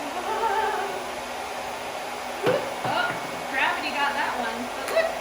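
A hair dryer runs steadily throughout with a constant whooshing drone, while a person speaks intermittently over it.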